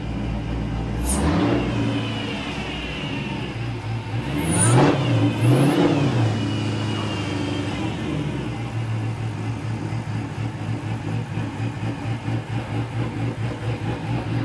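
Supercharged V8 engine from a retired police car fitted with a Hellcat supercharger, revving up sharply twice with a rising whine, then settling into a loud, lumpy, pulsing idle nearby, no talk.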